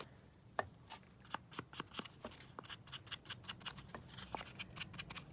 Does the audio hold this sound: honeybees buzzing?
no